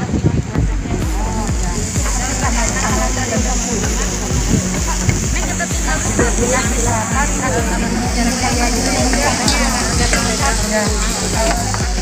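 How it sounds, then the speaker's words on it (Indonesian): Spices being sautéed in a pan in a home kitchen, a loud continuous sizzle with stirring clatter and sloshing, heard under ongoing talk. "Ditumis sampai harum sampai layu."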